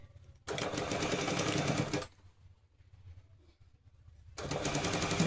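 A sewing machine stitching a baby girl's pants, running in two fast rattling bursts, a long one then a shorter one, with a quiet pause between them.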